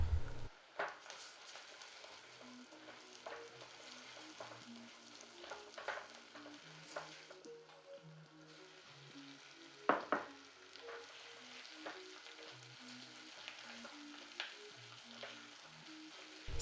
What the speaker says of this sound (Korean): 양파가 투명해지면 쌀과 오리쌀을 같이 넣고 볶아줍니다.